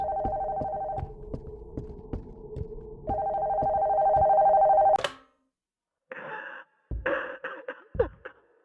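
An old telephone rings in a horror game, two long loud electronic rings over a slow throbbing heartbeat, then cut off abruptly into silence followed by scattered noises.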